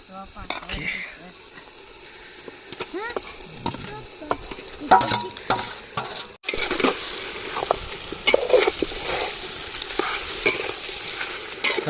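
Chicken sizzles in a pan of gravy while a spoon scrapes and stirs it, loud crackling frying with clanks against the pot, and voices talk over it.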